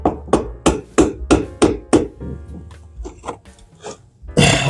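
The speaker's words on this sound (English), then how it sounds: "I'm gonna go grab a pry bar and hammer that out" Steady hammer blows strike a pry bar to split the gasket on a heater core of a 1979 Lincoln Mark V, about eight sharp, close whacks in an even rhythm, then lighter taps and scraping.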